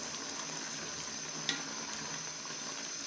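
Sugar is stirred into gajar ka halwa, grated carrots reduced in milk, cooking in a pan: a steady close sizzle and wet bubbling with a faint scrape partway through.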